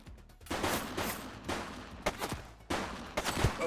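A string of gunshots in the video game The Precinct, four or five distinct bangs spread unevenly with echoing tails, moderately loud and without talk.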